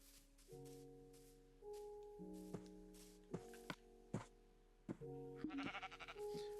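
Sheep bleating in Minecraft, several short tonal bleats from more than one animal in uneven succession, with sharp hitting thuds and footsteps among them.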